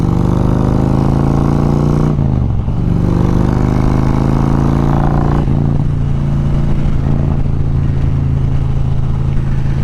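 A Harley Davidson Road Glide Special 114 motorcycle engine rumbles loudly nearby, with two sharp changes in pitch as the throttle is worked between stretches of steady, heavy running.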